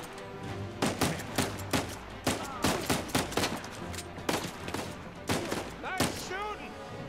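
Rapid gunfire in the video game Uncharted 4, with dense bursts of sharp shots repeating through the scene, fairly loud, mixed with speech from game characters.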